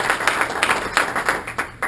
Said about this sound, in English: Can we get a round of applause for Gary?